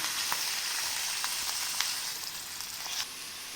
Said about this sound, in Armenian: Այ հիմա միսը մոտավորապես 5-7 րոպե պետք է պարտադիր տապակենք ձեթի մեջ